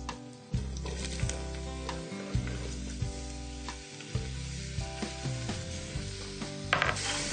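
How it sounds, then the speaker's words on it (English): Mushrooms sauté in a hot pan with popped mustard seeds and curry leaves for a mushroom, capsicum and green bean curry, giving a steady loud sizzle broken by repeated scraping stirs and clinks, with no talking. "To that, we're going to add our delicious mushrooms."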